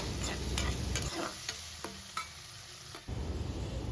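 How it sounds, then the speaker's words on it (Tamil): Cut tomatoes sautéing in a pan, close sizzling with a few sharp spoon taps and scrapes, the sizzle quieting briefly in the middle before swelling back. "இப்போ தக்காளியும் சேர்த்து நல்லா வதக்கிக்கிறேன்"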